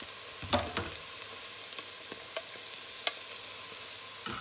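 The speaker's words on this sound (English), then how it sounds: "just added the onions in the oil so we can fry it up a little before I go in with my garlic" Onions fry in oil for a vegetarian cabbage and carrot dish, a continuous faint sizzle broken by a few light stirring taps.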